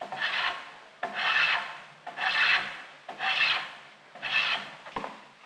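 A hand plane shaves wood in five long, even strokes, each a raspy swish with brief pauses between, close and clear.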